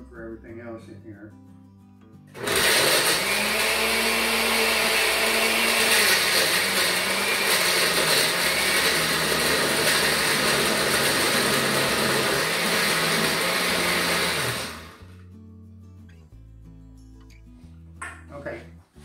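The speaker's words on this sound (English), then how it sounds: "And we're going to blend this down so it'll make a little more room for everything else in here." A blender whirs loudly for about twelve seconds through habanero peppers for salsa verde, starting and stopping abruptly, with quieter kitchen sounds before and after.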